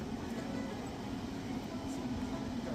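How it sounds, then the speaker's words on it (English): A cable-pulled funicular tram runs along its tracks in Malaysia, giving a steady, continuous low rumble with no breaks across the whole stretch, while a faint voice can be made out beneath it. "this one will then pull that other tram up, and you should see its cable when it goes by"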